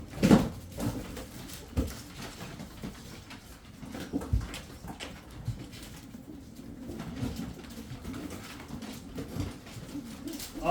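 Tumbler pigeons from Kırşehir coo in soft, low repeated calls close by, mixed with faint rustling and a few sharp knocks, with no talking.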